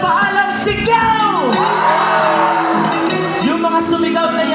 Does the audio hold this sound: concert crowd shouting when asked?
yes